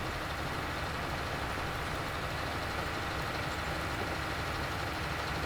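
Tractor engine in Farming Simulator 19 runs with a steady, continuous drone, a close and even low rumble with no pauses and no talking.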